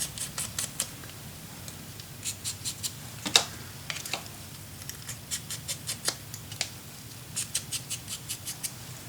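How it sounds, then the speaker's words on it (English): Scissors snipping along a paper edge for a cigar-box mini album, a series of quick crisp cuts in irregular bursts, close and fairly quiet. "Cut a little edge off."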